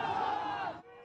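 Young children cheer and shout together as a crowd, a loud massed burst of voices that holds for most of a second, then cuts off abruptly and leaves a faint background.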